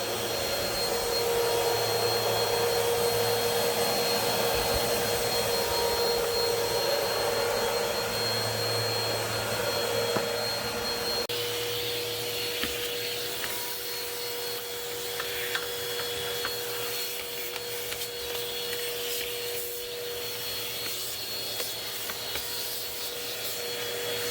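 A BISSELL Swivel Pet vacuum cleaner runs with its side brushes sweeping into corners, a loud continuous motor roar with shifting brush and rubbing noise, up close and steady, with no talking.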